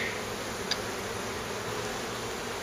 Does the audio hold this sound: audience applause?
no